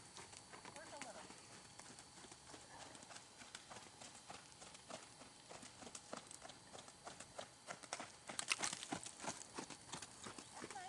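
Hooves clip-clopping steadily as Sadie, a horse being prepared for vaulting, works on a lunge line outdoors, with rhythmic beats through a noisy field and people talking over them.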